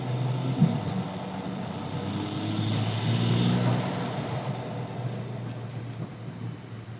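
A turbocharged car with a high-flow cat and stock rear exhaust section drones and revs up, picked up by mics placed right next to the intake and near the exhaust; a loud low engine tone swells midway and then eases.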